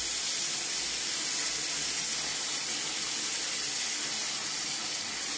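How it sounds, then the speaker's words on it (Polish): Steady, broadband rushing of fresh warm water being poured for rising sourdough bread dough, continuous and fairly loud with no pauses or voices. "Nową wodę nalewam."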